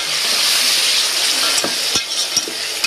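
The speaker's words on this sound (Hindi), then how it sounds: "टमाटर को डाल देंगे, हम इसको मिक्स कर लेंगे" Tomatoes stirred into a browned frying mixture for spiced potatoes, a loud steady sizzle with several short scraping knocks as a spoon moves through the pan.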